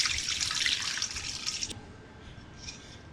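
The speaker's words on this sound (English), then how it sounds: "we're going to pour some water on top" Water pours steadily into a bowl of dried chilies, a bright splashing stream that cuts off abruptly, then a faint trickle and drip.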